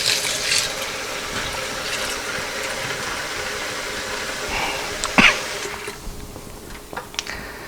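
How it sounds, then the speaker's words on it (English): Water poured steadily over soaked bean sprouts while they are rinsed and drained, giving a continuous close splashing wash with a few brief knocks and clatters near the end. "And try to apply as much water as I can."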